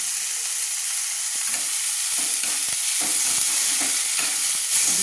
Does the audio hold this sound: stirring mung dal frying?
yes